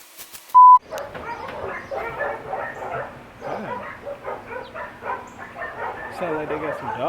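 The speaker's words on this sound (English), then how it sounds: "sound like they got some dogs in that van or something" Dogs bark in rapid, repeated yips and woofs from a moderate distance, a continuous chorus of several animals, preceded by a short electronic beep.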